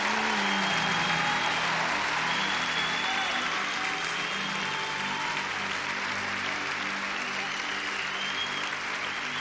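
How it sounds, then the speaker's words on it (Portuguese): Sustained applause from a large church audience, dense and steady throughout with a faint hum beneath and no voices over it. "Você pode aplaudir Jesus?"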